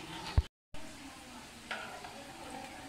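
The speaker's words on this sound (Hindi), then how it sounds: "अब मैंने इसमें डाला है बिरयानी मसाला और अब हम इसको करेंगे मिक्स अच्छे से।" Biryani masala being stirred into chicken in a pan, with a soft continuous sizzle and scraping stir, one sharp clack near the start and a brief gap of silence.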